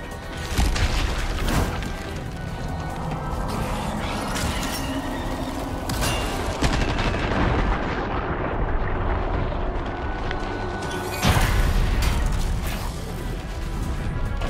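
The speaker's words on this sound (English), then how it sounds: "gonna shoot this guy first in the head" Gunfire and blasts in the video game Resident Evil 4 Remake, loud heavy booms and crashes over a constant roaring game din, with sharper hits standing out at a few points.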